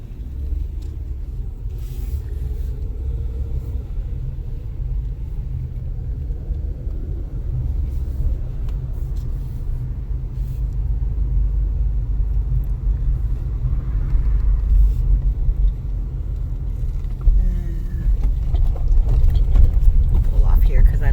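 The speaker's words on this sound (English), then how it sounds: "There's a car coming behind me." A car comes up from behind on a dirt trail in Kentucky, a low engine rumble that grows steadily louder and closer over about twenty seconds, heard from inside another moving vehicle.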